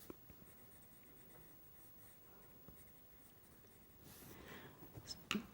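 Faint, scratchy strokes of a Derwent ProColour colored pencil on paper, soft and continuous with occasional small taps, growing slightly busier toward the end.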